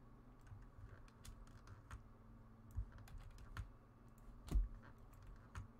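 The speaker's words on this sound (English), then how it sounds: "Let's type in Bill Cipher." Steady clicking of a computer keyboard as someone types a search, keystrokes close and fairly quiet in an otherwise still room, no talk.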